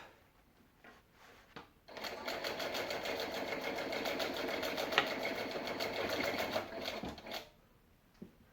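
A sewing machine runs in one continuous, rapid rattling burst of about five seconds as it top stitches the gap of a lined zipper pouch, with softer clicks before and after.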